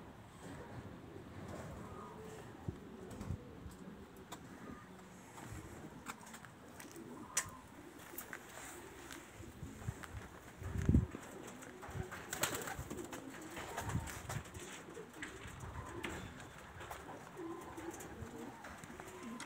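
A pair of homing pigeons sit in a cardboard box, giving soft, low, intermittent cooing against a faint rustling background, with occasional quiet knocks and people speaking nearby.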